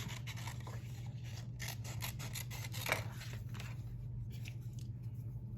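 Scissors fussy-cutting small succulent images out of paper, heard as faint, close snips and crisp rustling scrapes in short bursts over a low steady hum.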